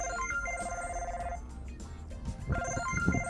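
A cell phone rings inside a car as someone drives, the ringtone repeating in short tonal bursts over low road rumble.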